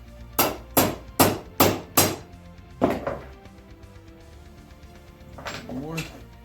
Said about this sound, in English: Notice I'm using a little hammer.